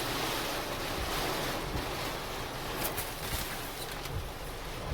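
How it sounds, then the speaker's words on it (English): Strong storm wind roars steadily across the microphone, a loud, broad rush with gusty surges and no talk. "with the way the wind's blowing, it's not going to help me much"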